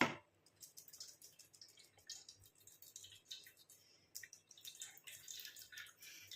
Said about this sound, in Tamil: இந்த மாதிரி ஒரு வடிகட்டி வச்சு நீங்கள் வடிகட்டிட்டு எடுத்துக்கோங்க